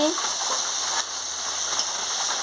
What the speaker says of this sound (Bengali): সামান্য একটু জল দিয়ে মশলাটাকে ভালো করে ভেজে নিচ্ছি